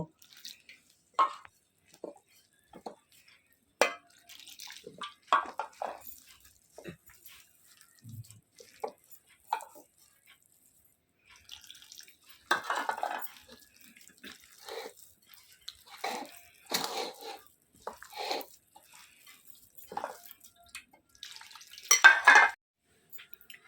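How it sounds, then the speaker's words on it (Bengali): Rice flour and warm water being mixed by hand into batter in a bowl: soft, irregular squelches, slaps and stirring clicks, close and quiet, with gaps between. "আমি একটু গরম জল উষ্ণ একটু গরম জল করে নিচ্ছি করে এইটাকে আমি ভালো করে মেখে নেব"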